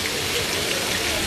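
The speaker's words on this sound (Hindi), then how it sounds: "लेकिन इस वक्त तक सख्त बारिश" Heavy rain falling on a cricket ground during a T10 league match day, a dense, steady hiss of downpour filling the short stretch evenly and loudly, with no voices heard.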